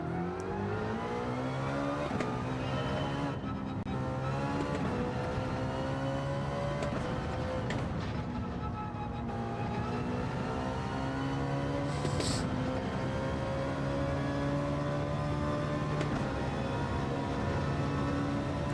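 A car engine in a racing video game accelerates and revs steadily through a long time-trial run, its pitch climbing and shifting through gear changes, with no talking over it.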